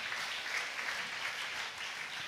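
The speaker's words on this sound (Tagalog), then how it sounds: "Malakas na palakpak sa ating mahal na Panginoon." A church congregation claps during a sermon, giving a soft, distant, even patter of many hands that stays steady without pause.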